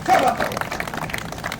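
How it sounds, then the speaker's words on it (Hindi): Audience applause for a contestant during a quiz-show-style safety street play at the DCM Shriram complex in Kota, a brief burst of clapping that is loudest at the start and mixed with speaking voices. "तालियां प्रतिभागी नंबर 3 के लिए"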